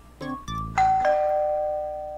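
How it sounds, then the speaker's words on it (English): A doorbell in a visual novel video game rings out with a clean electronic ding-dong, two bright tones that are each held and then fade slowly, standing alone with no talk over them. "There's the doorbell."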